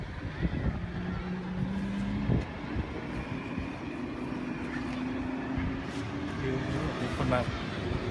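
Engine drone of a tour boat cruising on Lake Chuzenji in Nikko, Japan, a steady low hum with water wash running throughout, under a person speaking.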